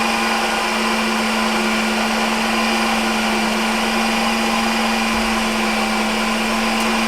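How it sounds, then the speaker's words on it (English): A Ninja Creami ice cream maker spinning and mixing graham cracker into key lime pie ice cream, a loud, constant motor whir with a steady hum that never lets up. "our Ninja is going to mix and blend all of the graham cracker right into the ice cream and mix it throughout for us"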